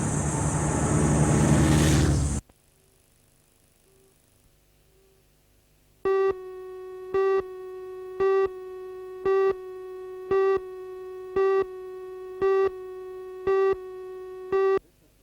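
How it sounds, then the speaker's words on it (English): Morse code telegraph tones from the era when telegrams and messages were sent this way, a steady pitched beep keyed in a regular run of short bursts, following a loud burst of noise and a brief near-silence. "This is the way telegrams and messages were sent just 40 years ago. Morse code."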